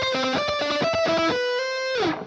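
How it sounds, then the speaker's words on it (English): Electric guitar alternate picking, a high note struck twice then a low note twice in a quick repeating pattern, ending on a sustained note that bends downward; clean and close with no voices. "a cool way is by picking the high note twice and then the low note twice as well"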